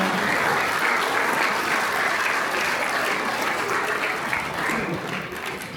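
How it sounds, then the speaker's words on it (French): A crowd's applause greets a church youth community group at a festive gathering in Arue, Tahiti, a steady, dense wash of many hands clapping that holds throughout and eases slightly toward the end. "Mais on va laisser la place maintenant à la communauté du Christ. Ah, Sous vos applaudissements."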